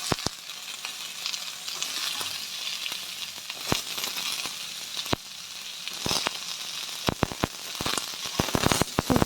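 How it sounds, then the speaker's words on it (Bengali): Onions sizzle in hot oil in a pan while vegetables, pointed gourd among them, are mixed in, a constant crackling fry broken by sharp, repeated clicks and scrapes of a spoon stirring against the pan. "সবজিগুলো দিয়ে একটু"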